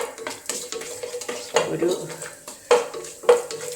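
Cloves frying in a pot for beef biryani, stirred with a spoon that scrapes and clinks against the metal over a soft sizzle, with a few sharper knocks near the end.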